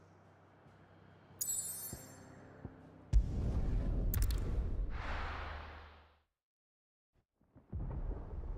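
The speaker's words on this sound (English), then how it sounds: "Sounds like thunder." Thunder in the video game Final Fantasy 16: one loud, rolling rumble that swells suddenly and holds for about three seconds before cutting to silence, with other game sounds around it and no talking.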